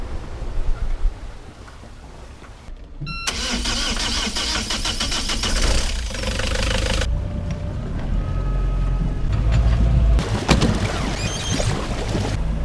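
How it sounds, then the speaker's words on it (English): A boat engine idles, cuts briefly, then runs with a steady mechanical drone and clatter, punctuated by a few louder knocks and shifts in pitch, as the boat is brought up to 6-7 knots. "so that's the engine on"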